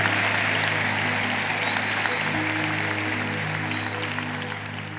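An audience at a religious conference applauds with sustained, dense clapping that holds steady and then slowly fades toward the end, over a low background hum.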